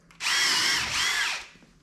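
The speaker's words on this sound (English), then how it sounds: "So we're just gonna drill" Power drill with a countersink bit boring into wood while building a chicken tractor: one sustained, loud high whine, near and steady, with a slight dip in pitch midway before it winds down and stops.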